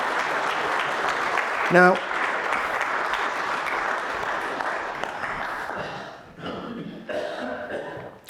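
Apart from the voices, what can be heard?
round of applause for poet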